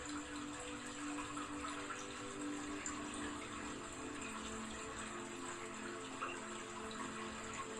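Continuous flowing, gushing water as a backdrop to a French guided meditation, a steady dense wash with no clear breaks, moderately loud and alone.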